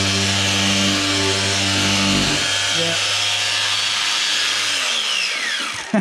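A power tool runs loudly on wood with a strong droning hum, shifts pitch partway through, then winds down and stops.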